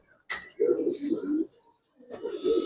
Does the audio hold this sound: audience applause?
no